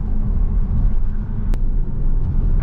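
Inside an Audi TT 2.0 TFSI with 211 hp while driving, the turbocharged engine gives a steady, deep cabin rumble with road noise, broken by one sharp click partway through.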